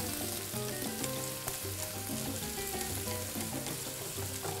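Shallots and garlic frying in hot oil for shrimp noodle soup, a steady dense sizzle with crackling bubbles, close and continuous throughout, with faint stirring underneath.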